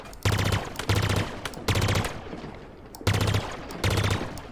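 Automatic gunfire from a weapon in Halo Infinite, fired at Spartan AI bots in repeated rapid bursts of about a second each separated by short pauses, loud and close with no talking.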